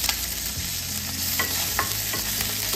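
Curry leaves hit hot oil with asafoetida for a Vidarbha-style kadhi tempering, giving a steady close sizzle and frying crackle with a few stirring scrapes and taps, no voices.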